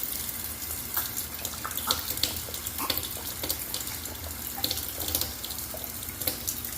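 Water runs steadily from a household tap into a sink, a continuous close splashing rush with small irregular spatters and no talking.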